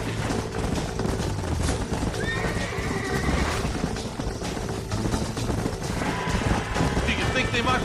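In the Western video game Red Dead Redemption, a horse gallops with rapid rhythmic hoofbeats and lets out whinnies, mixed into busy game sound effects and music, loud and close throughout.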